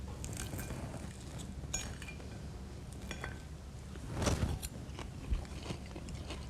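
A few crisp bites and crunches of pan-seared Alaskan salmon skin with faint chewing, plus a light clink of cutlery, quiet and close-up.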